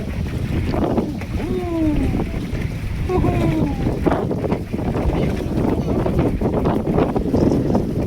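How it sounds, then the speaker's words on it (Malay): Strong wind buffets a fishing boat at Sangkar Sungai Udang in Penang, making loud, gusty rumbling across the microphone while someone talks briefly under the noise. "Oh, angin kuat."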